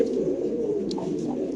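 Racing and Spanish pigeons coo close by in a short soft low burst, with a faint chirp over it.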